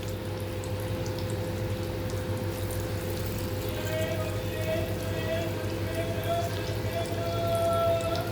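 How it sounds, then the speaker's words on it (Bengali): Small-cut chicken pieces fry in hot oil for chilli chicken, giving a steady, continuous crackling sizzle that holds at an even level throughout. "এভাবে সমস্ত চিকেনগুলোকে ভেজে নেব"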